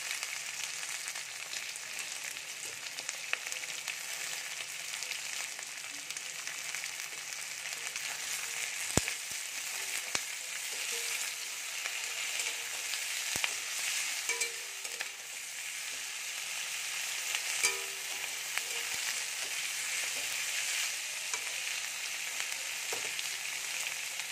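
Chopped tomatoes fry in a pan for chilli paneer, giving a steady, even sizzle with occasional light clicks and scrapes of stirring, close by and with no voices.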